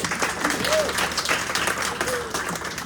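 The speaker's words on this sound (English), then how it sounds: "the brilliant Carrie Seidman, so we can give her a round of applause." An audience at a talk breaks into applause, a dense continuous wash of many hands clapping, close and fairly loud, with a few voices faintly mixed in.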